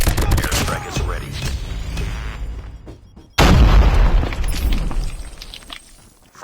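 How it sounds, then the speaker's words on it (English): Airstrike explosions and gunfire in a military shooter video game, with continuous bursts of shooting and heavy booms; a loud, dense blast hits midway and the rumbling combat carries on to the end. "Friendly airstrike incoming."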